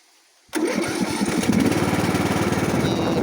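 A lawn mower engine catches after a quiet start, bursting into a loud, steady, rattling run that holds close by for the rest of the clip.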